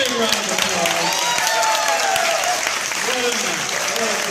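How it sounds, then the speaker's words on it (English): An audience at a music talent show night claps loudly and continuously in dense, sustained applause, with some cheering voices mixed in. "Big round of applause."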